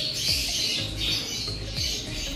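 A pet bird squawks and chirps in a few close bursts as it is taken out of its cage, its rough calls repeating over a steady background.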